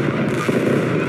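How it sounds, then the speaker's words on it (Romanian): Fireworks bursting over the crowded central streets of the Sinaia resort on New Year's night, a dense continuous crackle and popping of many blasts with no pauses, loud and close. "oamenii au umplut străzile din centrul stațiunii ca să admire focurile de artificii"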